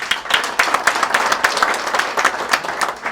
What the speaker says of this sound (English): Please, a big hand of applause